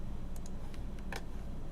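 A few quick keystrokes on a computer keyboard enter a value, about four light clicks over a steady noisy background hum.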